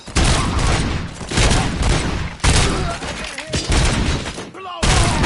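Dense bursts of gunfire fill a Robocop video game battle, loud and close, with sharp shots in rapid clusters separated by brief pauses and a sudden cutoff near the end; background voices shout over the shooting.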